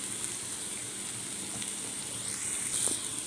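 Onion, carrot, capsicum and beans sautéing in a pan for Schezwan fried rice, a steady close sizzle and crackle with a few brighter pops, no talking over it.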